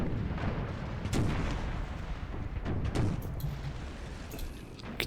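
Cannon artillery in the Empire: Total War battle game fires shot in a series of heavy booms and cracks over a dense rumbling battlefield backdrop, loud and fairly close, with a few sharper reports scattered throughout.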